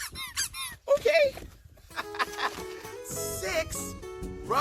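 Rubber duck toys squeaking in a children's counting game, a burst of bright, rapid squeaks and honking toy sounds mixed with excited voices.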